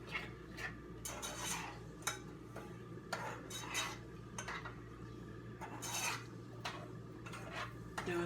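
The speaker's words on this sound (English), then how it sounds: "you just want to mix it around and just let the brown sugar" A spoon stirs brown sugar into a white chocolate Oreo cheesecake mixture in a bowl, giving repeated quiet scraping and rubbing strokes at an uneven rhythm, close but faint.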